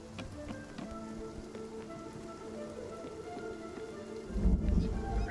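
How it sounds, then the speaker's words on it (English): A lightning storm in the video game Spiritfarer brings steady pattering rain, and a deep rumble of thunder swells up near the end. "Quick. Lightning storm."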